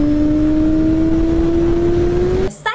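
A Honda CB400 Super Four inline-four motorcycle engine revs loudly and steadily up close, its pitch climbing slowly before it abruptly drops away with a brief rustle.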